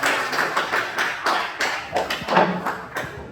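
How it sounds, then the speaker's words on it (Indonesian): Audience applause for group 2 at a classroom presentation, a steady patter of many hands clapping close by, rising and falling in small waves over a few seconds with no talk. "tepuk tangan untuk kelompok 2"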